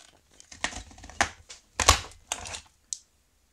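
A CRAFTS&Co letter punchboard punching letter shapes into paper, heard as a series of close, sharp crunching clicks and presses in an irregular rhythm, alone and fairly quiet.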